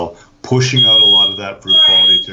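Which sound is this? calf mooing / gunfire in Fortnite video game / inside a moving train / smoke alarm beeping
smoke alarm beeping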